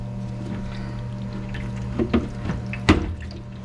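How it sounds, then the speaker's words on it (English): Water drains from the tank of a Kold-Draft ice maker that has been leaking, a steady trickling wash with a few clunks and splashes mixed in. "Let that drain out."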